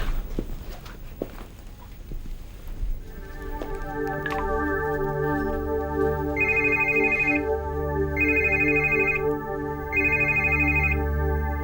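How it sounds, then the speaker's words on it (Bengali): A telephone rings repeatedly in steady bursts with short pauses between, loud and close, going unanswered, with a few faint footsteps and clatter before it starts. "রিং হয়ে যাচ্ছে তো, কেউ তো ধরছে না"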